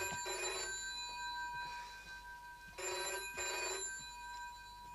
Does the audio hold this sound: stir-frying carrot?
no